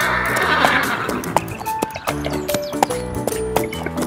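A ride-on toy horse lets out loud, near electronic neighs and whinnies, followed by a rhythmic clip-clop hoofbeat sound effect that repeats steadily to the end, with no talking.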